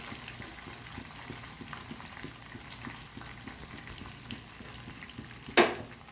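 A pot of kanda bachali curry with tamarind broth bubbles and sizzles steadily on the stove, a soft continuous cooking hiss with a sharper clink near the end, no voices.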